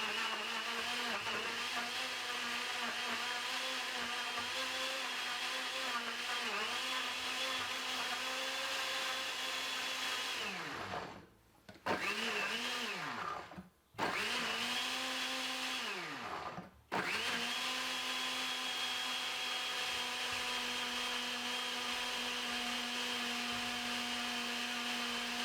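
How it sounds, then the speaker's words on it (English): A kitchen blender whirs continuously while blending a breakfast smoothie, a steady loud motor drone that dips briefly three times midway as the speed changes or pulses, then resumes at full strength. "once I have a good blender, you don't need to worry yourself"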